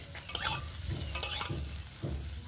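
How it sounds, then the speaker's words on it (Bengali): Spiced potato filling is stirred and fried in a pan, with repeated scraping strokes of a spoon over a steady, close sizzle and no voices. "এবারে সব কিছু আবারও একসঙ্গে ভালো করে নেড়ে চেড়ে মিশিয়ে নেব।"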